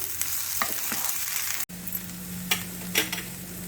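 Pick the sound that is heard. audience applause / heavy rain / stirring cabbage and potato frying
stirring cabbage and potato frying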